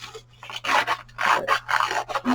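Paper edges are distressed for a grungy craft journal: a run of harsh, rasping rubbing strokes in uneven bursts, close up, with no one speaking.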